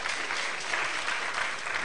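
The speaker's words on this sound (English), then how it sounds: "a round of applause for Tade Thompson" Sustained, even applause from a festival audience for writer Tade Thompson at an arts and book festival, a dense wash of many hands clapping throughout.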